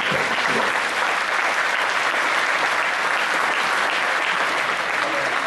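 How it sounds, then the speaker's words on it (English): A round of applause from the crowd at a Shorthorn cattle show in Grand Island, Nebraska: dense, steady clapping filling an arena, constant level throughout with no voices. "Let's give these young individuals a nice round of applause"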